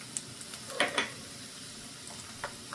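Chana dal, cashews, peanuts and garlic fry in oil with a soft, steady sizzle, broken by a few light clicks and taps of a stirring spoon; quiet and close, with no talking.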